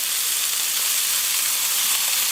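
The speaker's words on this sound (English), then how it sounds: "after the initial sear, we're going to turn down the heat a little bit and let them cook" Duck breast skewers sizzle on a BBQ grill, giving a steady, bright, close hiss with no talking.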